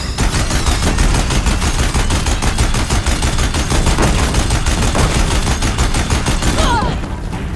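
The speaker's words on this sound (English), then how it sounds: "If the Deathbringers keep firing, this bridge will go." Deathbringer machines in Horizon Zero Dawn fire a loud, steady machine-gun barrage of rapid repeating shots that runs almost unbroken for about seven seconds before easing off at the very end.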